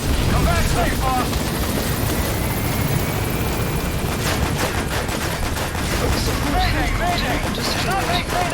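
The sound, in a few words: helicopter from video game Metal Gear Solid V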